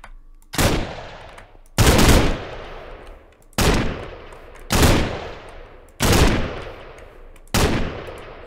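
Loud gunfire in a Minecraft map: six sharp bursts spaced roughly a second apart, each cracking hard and then trailing off, with quiet gaps between.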